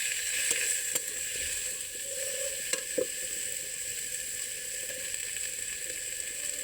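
Pea shells sizzling in a wok with ground turmeric, chilli and garlic paste, a steady close crackle broken by a few sharp scraping clicks as the spatula stirs.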